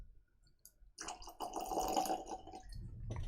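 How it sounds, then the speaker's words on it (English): Bruichladdich Classic Laddie whisky pours into a glass after a brief quiet, a soft close splashing trickle that swells and runs for a couple of seconds, alone with no talk. "Let's pour and see what we get on the bubbles."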